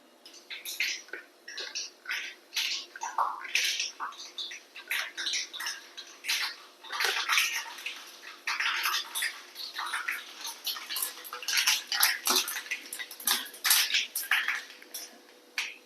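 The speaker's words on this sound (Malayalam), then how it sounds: "നമുക്ക് കടുക് ഇട്ട് കൊടുക്കാം ഉണക്കമുളക് ഇട്ട് കൊടുക്കാം" Mustard seeds and dried red chillies fry in hot oil, popping and crackling in dense, irregular bursts of sharp ticks that run steadily throughout at close range, with no talking.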